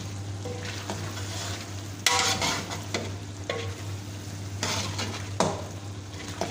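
Aloo keema with garam masala being stirred in a pan over the heat, a steady close sizzle broken by repeated scrapes and clanks of the spoon against the metal, no voices.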